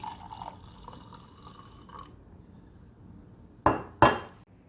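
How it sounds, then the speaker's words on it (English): Red cabernet wine is poured into a glass at a home meal: faint trickling and a soft hum, then two sharp glassy clinks near the end, with no voices. "So I'm going to add a glass of wine."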